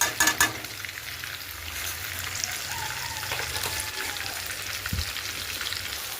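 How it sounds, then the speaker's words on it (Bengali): Onions sizzling steadily in a hot pan with a little sugar, browning for a mutton and potato curry; a constant broad hiss with a few clatters of stirring at the start and a thump near the end. "দেখুন পেঁয়াজগুলো লাল করে ভাজছি, একদম লাল করে।"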